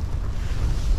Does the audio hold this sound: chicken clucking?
no